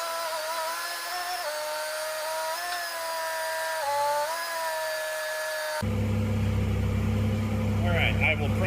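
Case 310 dozer under rebuild, its engine running with a steady whining drone, then a louder deeper rumble takes over partway through, close with talk over it.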